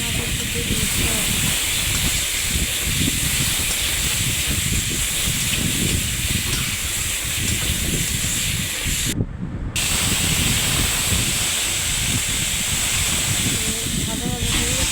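Water poured into a pan of frying pumpkin gives a loud, continuous steamy hiss that lasts throughout, with one brief dropout near the end.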